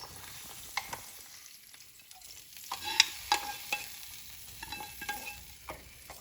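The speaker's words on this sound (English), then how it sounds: "just take this and mix it to the tamarind juice" A spoon scrapes and clinks in a pan as a hot tempering is mixed into tamarind juice, giving soft irregular stirring taps over a faint, quiet sizzle, close by, with no talking.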